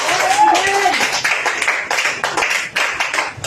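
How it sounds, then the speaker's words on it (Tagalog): A church congregation clapping during a worship service, a rapid run of sharp, close claps that comes in bursts and thins out toward the end, with a voice briefly heard at the start. "Yung palakpak ninyo kay Wednesday"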